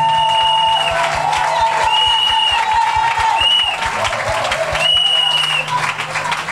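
A church congregation at a Sunday harvest-festival service applauds in steady rhythmic clapping. A sustained sung or musical tone runs above the claps throughout.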